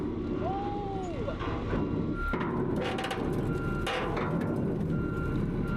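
Backup beeps from a trailer truck reversing while moving a 40-foot steel water tower, steady repeated beeping over a loud rumbling engine, with occasional creaks and metallic clunks.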